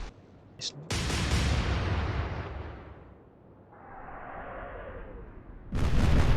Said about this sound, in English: Salvo from the York sunk the enemy cruiser.